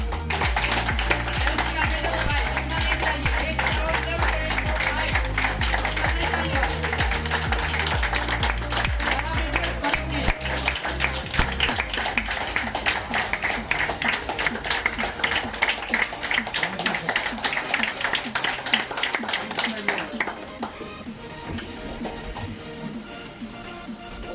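Applause and rhythmic clapping welcoming a guest onstage at a Delcon Homes award ceremony, steady sharp claps from a close crowd over background music for about twenty seconds, then thinning out as a voice speaks.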